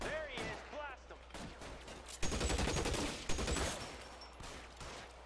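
Gunfire bursts out in L.A. Noire, a dense, loud barrage of rapid shots lasting a few seconds with a couple of sharper cracks, preceded by talk and game sounds.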